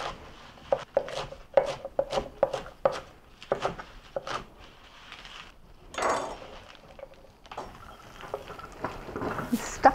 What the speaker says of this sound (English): I'm going to go ahead and chop up some of the beet greens, like the dark red stemmy parts, and add those in as well